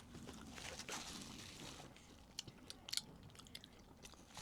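Someone bites and chews mochi close to the mic, and quiet, soft chewing runs throughout with a few small crisp crunch-like clicks near the end. The room is otherwise hushed and nobody speaks.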